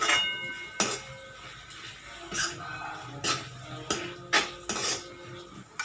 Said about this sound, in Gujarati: લસણવાળી ચટણી ઉમેર્યા પછી સરખી રીતે મિક્સ કરી લેશું